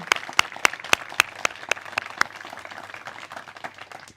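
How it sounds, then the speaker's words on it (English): Applause from a ceremony audience for the staff behind a search-dog team pairing, crisp loud claps at first that thin into softer scattered clapping as it fades out. "If we can give them one more round of applause for all of the days, weeks, and months of time put in"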